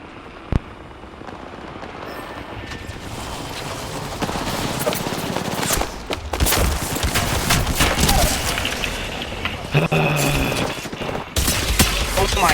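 Rapid automatic gunfire rattles through an Apex Legends-style battle royale match, dense overlapping bursts and shots at close range, with a sharp single crack early on and sustained firing intensifying through the second half.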